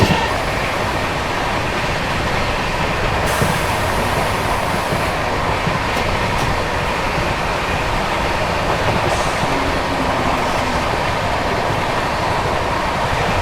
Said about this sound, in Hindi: क्या भाग रही है भाई बिहार संपर्क यार, क्या भाग रही है।